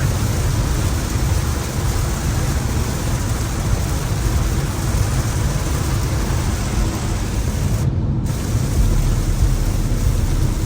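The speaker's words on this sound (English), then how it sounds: "Yeah, the rain is coming down crazy right now." Heavy rain pours over a BMW M5 Competition while it is being driven, a loud, dense and constant hiss with a low rumbling undertone that may be thunder, with no voices over it.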